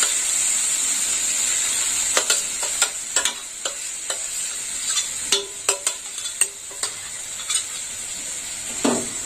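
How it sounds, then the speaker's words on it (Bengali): Grated coconut mixture stirred in a hot pan for coconut sweets, with a steady sizzling hiss under repeated scraping and knocking strokes of the spoon against the pan, close and fairly loud. "এবার নারকোলটা ভালো করে নেড়ে চেড়ে নেবো।"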